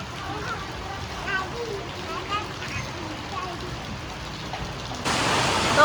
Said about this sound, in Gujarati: જોવો વરસાદ બરોબર ચાલુ થઈ ગયો